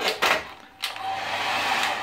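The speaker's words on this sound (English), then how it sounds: "I must say hair dryer not so strong." Hotel room hair dryer at a beach resort, a weak one, blowing as a steady airy whoosh close to the microphone, briefly cut off and switched back on, with no talking.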